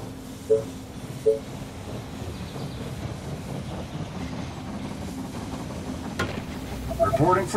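A train rolls into a station in the strategy game They Are Billions, a steady low rumble running throughout with a few short tonal unit chirps on top and a sharper clatter near the end.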